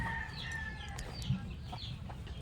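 Gamefowl stags and hens in breeding pens cluck and call at a moderate distance, with a thin crow-like cry over a steady farmyard hum.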